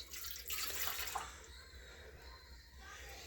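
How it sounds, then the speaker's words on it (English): One cup of milk pours into a bread machine pan with a faint, soft splashing trickle lasting a few seconds, alone without talk. "So we're going to start with 1 cup of milk, and we're going to pour that right in our pan."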